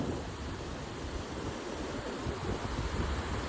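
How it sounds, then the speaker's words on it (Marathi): A river rushes steadily near the Manikaran hot springs, a constant broadband roar of flowing water with no talking and no change in level. "ही नदी मस्त वाहते"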